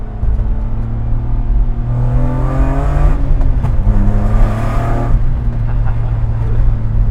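A supercharged 400 WHP BMW E30 325is engine revs and accelerates, its loud droning note climbing in pitch across several gear pulls with a whining edge, close and continuous.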